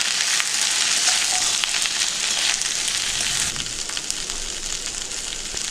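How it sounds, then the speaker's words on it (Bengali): Ginger and mixed vegetables fry in a pan for a Bengali mixed veg curry, making a dense, close, crackling sizzle that drops a little quieter about halfway through. "অল্প ভেজে নিচ্ছি, আদার গন্ধটা যাতে কাঁচা গন্ধটা চলে যায়"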